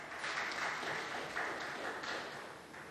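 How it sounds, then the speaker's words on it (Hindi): A studio audience at a Ramadan iftar television show applauds steadily, a dense, even wash of clapping held at moderate distance for a few seconds without pause. "सब तालियां बजाओ।"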